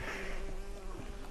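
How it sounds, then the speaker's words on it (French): A bee buzzing in the video game BioShock Infinite, a steady close insect drone with a faint whine, heard alone for about a second. "Oh, une abeille."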